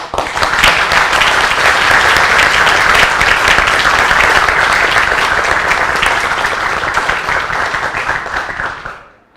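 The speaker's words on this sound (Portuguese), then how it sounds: "Mas agora sim, uma salva de palmas." A large audience at an academic anniversary lecture bursts into loud, sustained applause, many hands clapping close and full for about eight seconds before it tapers off quickly to silence.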